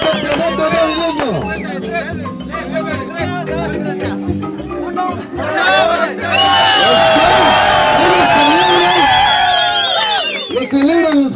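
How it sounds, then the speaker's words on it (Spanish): Cheering crowd celebrating a football championship award at a Christmas tournament, loud shouts and whoops swelling in the second half, with an announcer talking over the noise earlier. "Fuertes aplausos para el campeón"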